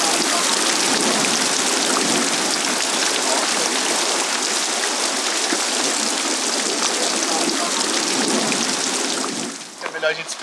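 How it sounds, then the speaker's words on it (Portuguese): Steady, dense rain pours down outdoors in Chapada dos Veadeiros, Brazil, a loud continuous hiss that lasts most of the stretch before fading out abruptly near the end. "É melhor a gente esperar a chuva."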